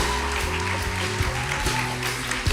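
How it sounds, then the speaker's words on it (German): An audience at a Bible Week event applauds to welcome a guest onto the stage, a steady wash of clapping blended with sustained musical tones throughout. "Wir geben einen großen Applaus."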